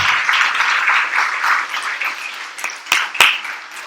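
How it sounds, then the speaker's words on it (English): An audience at the close of a two-day music festival gives a sustained round of applause that gradually thins out, with a few sharp, isolated claps ringing out near the end. "Let's give her a round of applause."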